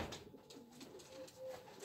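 Racing pigeons returning to their loft after a 195 km race from Chimay, France, give soft, faint cooing against a quiet outdoor background.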